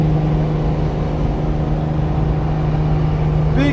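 A Kenworth W900 truck engine runs loud and close, a steady deep drone with a strong low hum and little variation in pitch, held throughout with a faint rising whine near the end.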